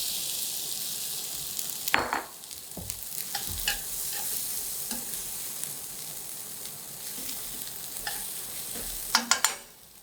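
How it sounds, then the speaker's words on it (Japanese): Onions stir-fry in a frying pan for a spicy beef curry, a soft continuous sizzle broken by sharp scrapes and clacks of a utensil against the pan, close up with no talking. "同じフライパンで玉ねぎを炒めます。"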